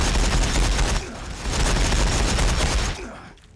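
Sustained gunfire from the video game Warhammer 40,000: Battlesector, a loud dense fusillade of rapid shots with a brief dip before the barrage resumes and fades out.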